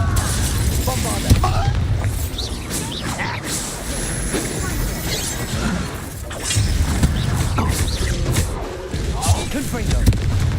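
A Bombarda blasting spell explodes in Hogwarts Legacy, with booming, shattering bursts set against dense game sound and a person talking throughout.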